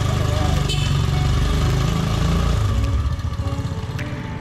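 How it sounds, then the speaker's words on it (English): A Honda motorcycle on a ride on Buton Island, Indonesia, gives a loud, close, continuous engine drone that eases slightly toward the end. "So let's take the bike, yeah?"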